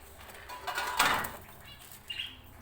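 Pet budgerigars flutter their wings briefly in a cage, a short soft burst of flapping near the middle with a faint chirp after, quiet otherwise.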